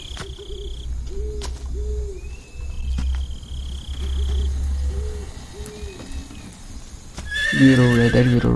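A horse in the Red Dead video game, with rhythmic clip-clop hoofbeats walking over a steady low rumble and a few bird calls, ending in a loud, close neigh.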